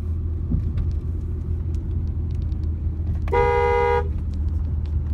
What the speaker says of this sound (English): you drive by his house, you have to honk